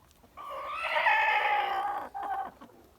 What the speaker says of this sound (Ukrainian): От прийшов півник білий Фельдер показатися тут